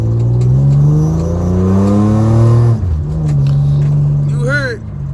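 A Mitsubishi Eclipse car with 272,000 miles revs loudly and close by, its engine pitch sweeping up and down in long, steady pulls. It ends with a brief sharper whine.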